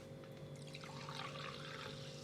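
A Sodastream Duo sparkling water maker carbonating water gives a brief, fizzy hissing rush that swells over a steady low mechanical hum, heard up close and indoors with no one speaking.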